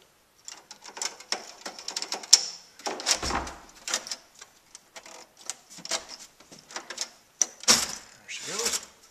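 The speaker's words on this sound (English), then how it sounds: "unscrew the main board" Screws being taken out of the main board of an SGI Octane workstation: scattered light ticks, scrapes and clicks of a screwdriver and metal parts, close up and uneven, with brief louder knocks.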